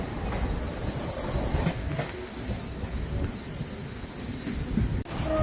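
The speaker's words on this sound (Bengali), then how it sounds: "খড়গপুর স্টেশন ছাড়ার পরে এই ট্রেনটা ভালো স্পিড নিয়ে ছুটতে থাকলো" Train on the Kharagpur–Puri line running at good speed after leaving Kharagpur, with a steady, high, whining wheel squeal over a dense rolling rumble that cuts off abruptly near the end.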